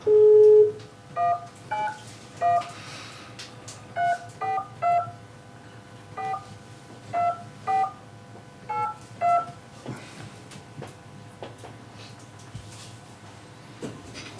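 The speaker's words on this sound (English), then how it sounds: "Ready for me to make this phone call?" A telephone being dialed for a call in a county commission meeting: a series of short keypad tones in irregular clusters, moderately loud over a quiet room hum, with small clicks and shuffles and no talk.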